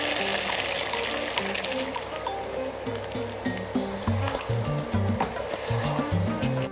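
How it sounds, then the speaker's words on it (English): Sugar water poured into a pan of frying chicken pieces sends up a broad, steady sizzle and liquid splashing, loud and continuous, with faint background music running underneath. "I'm going to add the sugar water,"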